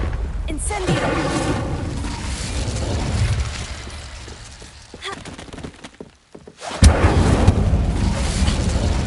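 Fire spell blasts from the Hogwarts Legacy video game roar in loud, sustained bursts, dipping briefly in the middle before a fresh blast surges back strongly; no speech.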